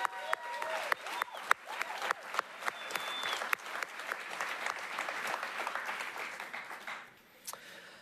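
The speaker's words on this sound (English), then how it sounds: "Please join me in giving them a round of applause." An audience claps steadily, a dense patter of many hands that swells and then tapers off near the end.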